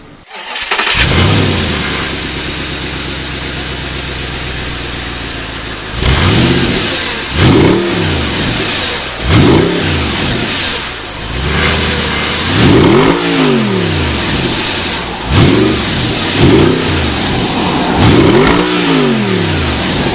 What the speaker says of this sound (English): So let's have a test drive in this Audi R8